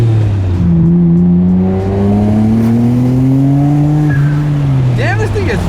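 Single-turbo BMW M3 accelerating hard, its engine note climbing steadily through the revs and then dropping at a gear change before rising again, loud and close as if heard from inside the car.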